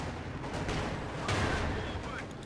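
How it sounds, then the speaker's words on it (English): An anti-tank gun fires at a Panther tank in a Company of Heroes 2 battle: a dense, rumbling roar of shots and booms, with a louder blast at mid-clip amid constant battle noise. "AT gun getting a good shot of there on the Panther"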